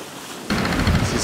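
A sudden wash of broadband noise, wind from behind on a broad reach and surging sea waves on an offshore sailing passage, kicks in after a quiet start and continues loud and steady.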